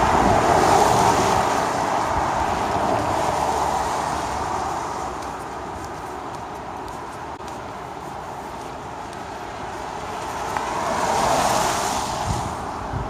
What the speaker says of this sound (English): Just so you guys know, we are at the ocean.